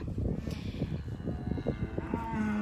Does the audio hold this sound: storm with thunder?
no